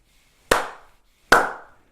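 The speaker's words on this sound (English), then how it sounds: "If you can hear my voice, clap twice." Two sharp, well-separated claps ring out in a quiet classroom-style room, each a crisp group clap of several people with a short decaying tail, with no talk.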